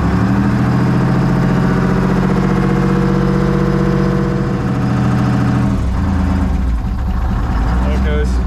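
A Chevy C70 truck with a 6V53 diesel engine idles steadily while building air pressure after sitting for 30 years, a loud, close, continuous low rumble that roughens and shifts toward the end.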